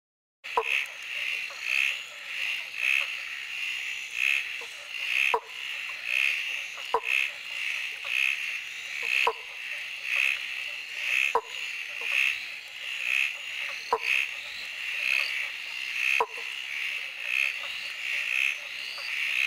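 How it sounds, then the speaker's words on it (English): Repeated frog calls from scarlet-sided banjo frogs, the northern species, in the Scenic Rim: a regular series of short plunking notes about a second apart over a chorus of higher trilling frogs and faint insects. "scarlet-sided banjo frog, which is the northern species."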